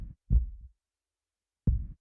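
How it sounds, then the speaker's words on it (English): Two slow, deep heartbeat thumps used as a sound effect in the Tsukihime visual novel, each a low double pulse, close and isolated against silence. "doesn't the sound of my heartbeat excite you?"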